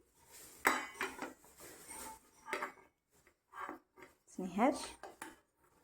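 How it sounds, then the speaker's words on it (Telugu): A toddler bangs and knocks steel cooking vessels together in a home kitchen, producing scattered metallic clanks and clinks in short irregular bursts, fairly quiet and close. "ఈయన గిన్నెలతో లాడుతూనే ఉంటాడు ఎప్పుడు చూడు."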